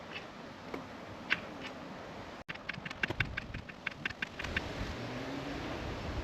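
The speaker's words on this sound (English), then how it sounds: "we want to shift up 15 times. So I'm just going to shift up here." Gear shifts on a Kove 450 Rally motorcycle with the ignition on and the engine off, a series of sharp mechanical clicks repeating in a steady rhythm, close and fairly quiet over a low background hum.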